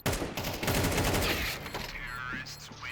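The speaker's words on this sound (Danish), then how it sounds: "Og Brand, der bliver skudt." Rapid bursts of gunfire in a Counter-Strike match, a dense volley of shots and automatic fire that fades after about a second and a half, with a commentator talking in the background.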